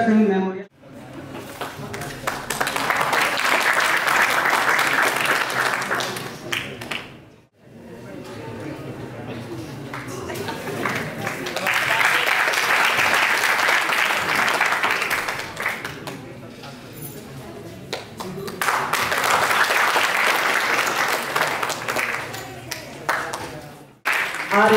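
Loud, dense audience applause at a school toppers award ceremony, sustained in three long waves separated by brief dips, with a faint voice underneath.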